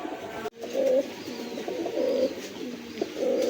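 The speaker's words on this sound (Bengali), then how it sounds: "এখানে একজোড়া ইন্ডিয়ান মুম্বাই কবুতর আছে" A pair of Indian Mumbai pigeons coo repeatedly at close range, a steady series of soft throaty calls running through the whole stretch with no talk over them.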